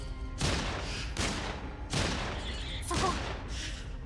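Shots fired at an enemy in Atelier Yumia, four heavy booming blasts spaced about a second and a half apart, loud and close over a steady rumbling background.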